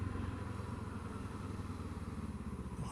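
Kawasaki Z7 Hybrid motorcycle on the move, its engine a steady low drone with a faint rhythmic pulse, heard close and constant for a few seconds with no speech.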